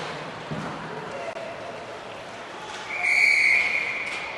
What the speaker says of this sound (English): Whistles go.